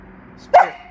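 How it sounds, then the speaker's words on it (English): A single loud, sharp bark from a pet dog named Spirit rings out close by. The rest is a quiet room. "What are you barking about, huh?"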